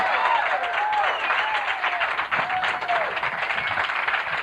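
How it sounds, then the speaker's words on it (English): A comedy club audience claps and cheers to welcome the first act of a 1987 TV pilot stand-up show, steady applause throughout with whoops and voices mixed in above it. "Let's have a big round of applause"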